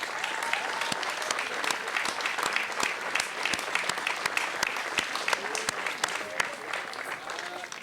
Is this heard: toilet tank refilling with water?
no